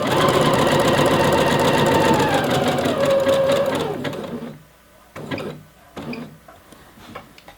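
A sewing machine stitches an elastic waistband in a fast, continuous mechanical whir for about four seconds, then slows and stops, followed by a few short bursts and fabric handling, close up with no talking.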